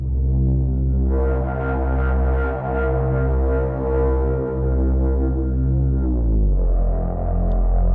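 A deep SynthMaster 3 synthesizer bass holds sustained, rumbling low notes with a throbbing pulse, loud and continuous, no voices.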